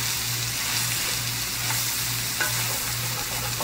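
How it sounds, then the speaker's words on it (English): Cabbage for Hawaiian-style corned beef cabbage cooks down in a cast iron pan with a dense, constant sizzle and crackle, joined by occasional stirring scrapes. It is close and steady, with a low hum underneath and no voices. "But just cook them down, get the cabbage wilted."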